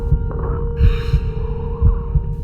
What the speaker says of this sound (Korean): 심장 박동도 빨라지고